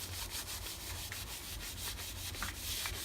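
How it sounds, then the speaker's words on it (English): Steady scrubbing of paint softened with aircraft paint stripper, a continuous close rubbing with repeated strokes over a low constant hum. "I'm just going to continue to scrub this and get off as much of the paint as I possibly can"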